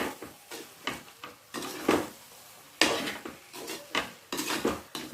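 A spoon scrapes and stirs through jackfruit chicken biryani in a metal pot, giving irregular clinks and rubbing scrapes at close range with no talking.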